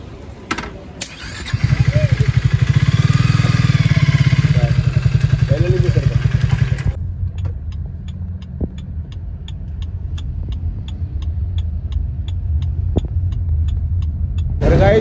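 A Triumph Speed T400 motorcycle engine fires and revs loudly up close, then settles into a steady rhythmic putter with sharp ticking pulses as the bike runs on.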